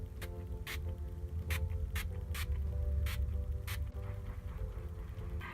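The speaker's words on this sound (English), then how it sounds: "I'm going to use my Wet n Wild setting spray" A Wet n Wild setting spray bottle is pumped in short, sharp hissing spritzes, about eight bursts at uneven intervals, close and crisp over a low room hum, with no talk.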